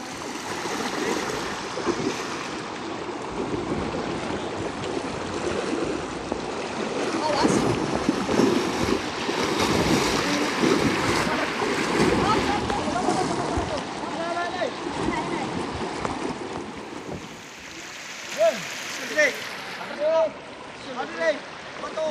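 Strong current of a river in Eastern Samar rushing and churning as a steady, loud wash, with people talking over it.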